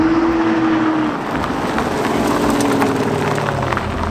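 A car does a burnout on brand new tires: a loud, steady engine roar with constant tire noise that stays close and continuous from start to finish.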